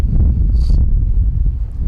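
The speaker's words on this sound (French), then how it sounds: "On est à Port-la-Nouvelle et il y a énormément de vent" Strong wind buffets the microphone at Port-la-Nouvelle, a loud, steady low roar of gusts with no voices present.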